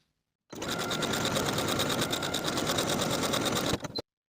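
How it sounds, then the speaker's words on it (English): A sewing machine stitches a buttonhole into a fused hoodie hood piece, running in one continuous fast rattling burst of about three and a half seconds, close and loud, then stopping abruptly. "Once I have my interface fused in place, I'll sew the buttonhole at the marking."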